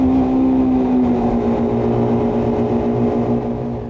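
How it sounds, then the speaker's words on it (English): Yamaha 242 Limited S boat from 2011 launching at full throttle, a loud, steady engine roar with a strong tonal drone that holds throughout, easing slightly toward the end. "So when you hit the throttles, it launches off, so make sure everybody's hanging on."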